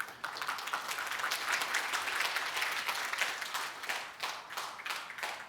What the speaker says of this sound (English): I want to give him a warm round of applause for that great speech that he just gave.